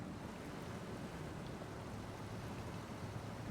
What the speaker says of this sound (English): And then we're going to just drive through the river here.